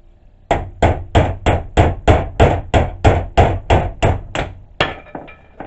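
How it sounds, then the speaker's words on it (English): A punch struck with a hammer to drive out the handle of a ball peen hammer during restoration: about thirteen sharp, evenly spaced metallic blows in quick rhythm, loud and close, with no talk. "just take a punch with a hammer and punch it out"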